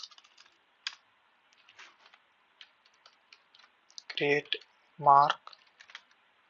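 Sparse keystrokes tap on a computer keyboard while entering a Hypermesh script command, scattered light clicks in quiet with a voice briefly speaking near the end.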